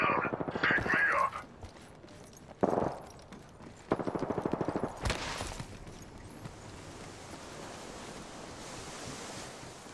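Bursts of rapid automatic gunfire from Apex Legends gameplay, several sharp volleys in the first half followed by a dense roaring wash of noise, with a voice briefly speaking over it.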